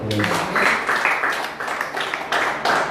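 A church congregation claps in loose bursts that swell and fade over a few seconds, with voices mixed in.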